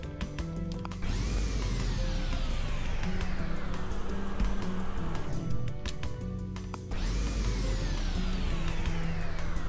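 A creature vacuuming in the video game Ball Stars of the Animal Kingdom, a loud continuous whirring drone with a rising and falling pitch sweep that restarts partway through.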